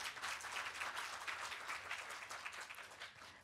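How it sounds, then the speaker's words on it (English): Steady applause from an audience, a dense wash of many hands clapping at a moderate, distant level. "Can we have a big round of applause for Fadi, please?"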